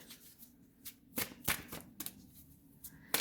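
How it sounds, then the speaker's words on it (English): Tarot cards handled and drawn from a deck: quiet close riffling and several sharp card snaps spaced a few tenths of a second apart, with no talk. "Let me grab one more card."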